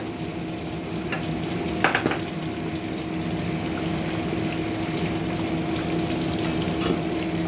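Mixed fish frying in a pan for a mashed fish dish, a steady broadband sizzle holding evenly throughout with one brief clatter near the start, fairly close and with no talking.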